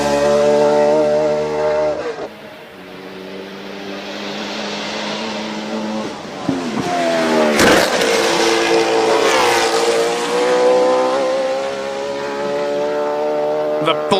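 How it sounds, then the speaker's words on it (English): Infinity V8 race car at a hillclimb event, its engine screaming at high revs, briefly lifting off and then climbing again through the gears as it passes close and loud, with a commentator talking over it. "The full beam Infinity V8 in great voice."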